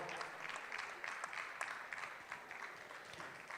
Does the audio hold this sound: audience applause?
yes